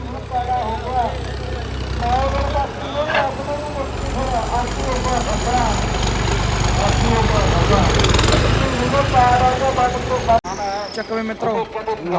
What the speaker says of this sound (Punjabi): fast tractor